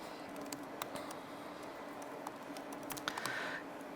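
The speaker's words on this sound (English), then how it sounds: "And then as I type in here" Quiet, irregular clicking of keys as someone types on a computer keyboard, a light patter of taps close to the mic over a faint steady background hiss.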